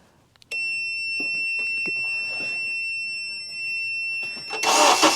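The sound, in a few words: 2007 Honda CR-V engine starting after a beep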